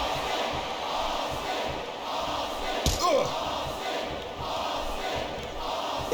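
Crowd noise from a WWE wrestling video game during a Last Man Standing match between Stone Cold Steve Austin and Maria in the Vengeance Arena, a steady loud roar throughout with a sharp slam-like hit partway through.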